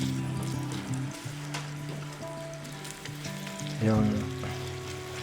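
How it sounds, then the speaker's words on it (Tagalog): Onions frying in olive oil in a home kitchen pan, a steady close sizzle with occasional stirring scrapes and a brief louder hiss partway through, while a voice speaks a word. "Let's put some olive oil. Konti lang. That's it. Onions."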